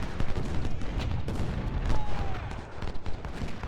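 Artillery booms and musket volleys in Ultimate General: Civil War, depicting the Cold Harbor battle, a steady rumble of overlapping shots and blasts with a brief whistling streak mid-clip.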